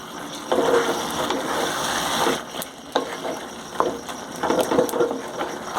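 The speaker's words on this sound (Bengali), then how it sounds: "মাংসটা ভালো করে নাড়াচাড়া করে দেব, যাতে কষাটা সব জায়গায় সমান পরিমাণ হয়" Chicken kosha is stirred while frying in a pan, a soft sizzle under repeated scraping and wet, thick stirring bursts at close range.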